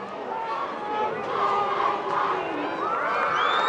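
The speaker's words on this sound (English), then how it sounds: "How do the old Silverton cheer here, spelling out Silverton." A group of high school cheerleaders at a 2008 Silverton versus Corvallis football game chant the old Silverton spelling cheer in unison, a steady roar of shouted voices with crowd noise throughout.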